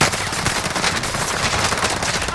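Rapid, unbroken automatic gunfire in the video game Call of Duty Vanguard Warzone, loud and dense for the whole stretch with no talk over it.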